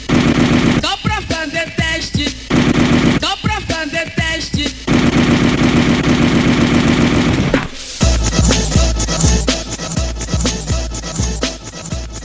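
Machine-gun style gunfire effects rattle in rapid bursts over a loud, pounding disco dance track, the shots repeating in clusters throughout and dominating the mix.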